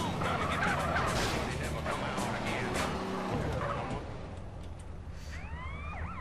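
A car in GTA San Andreas roars loudly and steadily as it drives into a garage, with engine noise and a siren-like wail that fades out toward the end.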